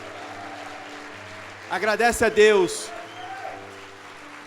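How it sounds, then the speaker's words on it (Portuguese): A church congregation at a Sunday service breaks into a short burst of applause lasting about a second, under a preacher's amplified voice speaking over it. "dê uma salva de palmas a Jesus"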